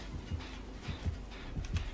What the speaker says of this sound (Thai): แล้วหัวใจเต้นเลย